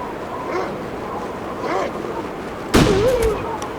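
A single rifle shot rings out at an animal in The Long Dark, a sharp loud crack followed by a decaying echo over a quiet outdoor wind-and-water ambience, with soft footstep-like sounds beforehand.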